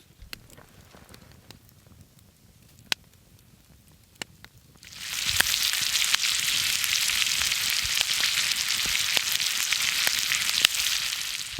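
Grouse cooking over an outdoor fire: a sudden loud, steady sizzle starts partway through and continues, following a quieter stretch of crackling fire with sharp pops scattered throughout.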